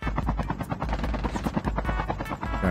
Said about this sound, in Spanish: Oye, déjame el helicóptero